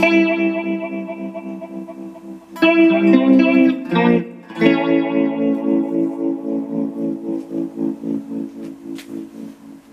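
An electric guitar runs through an effects unit with its modulation set to a sine waveform, giving sustained chords a smooth, wavering chorus-like sweep with distortion and echo, loud and close, the swells pulsing steadily as the notes ring out.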